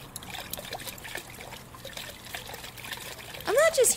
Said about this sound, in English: What's dripping?